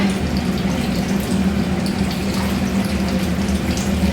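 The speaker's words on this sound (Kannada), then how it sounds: "3/4 ಲೋಟ ನೀರನ್ನು ಹಾಕ್ತಾ ಇದ್ದೀನಿ." Water poured from a cup into a pot of pulao rice, a steady, even rushing stream that runs throughout at moderate loudness with no talking.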